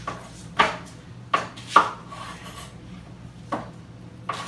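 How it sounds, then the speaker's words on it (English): A knife cuts an onion in half and trims its root end on a wooden board, with a few separate close rasping strokes spread out over several seconds and quiet between them. "now we're just going to cut this onion in half and cut the little root end out"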